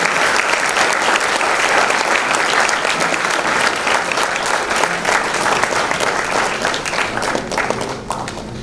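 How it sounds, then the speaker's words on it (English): An audience at a memorial lecture gives a loud, sustained round of applause welcoming Justice Abhay Oka, a dense, continuous clapping from many hands that tapers slightly at the end. "Please join me in welcoming His Lordship with a round of applause."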